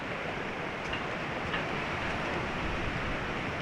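Ocean surf breaks on Turtle Beach at Vero Beach, heard as a constant, even wash of broadband roar with no distinct individual crashes.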